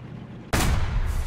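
In War Thunder, an AMX 50 tank cannon fires once: a sudden, loud, close blast that cuts through a quiet hum and leaves a broad rumbling roar.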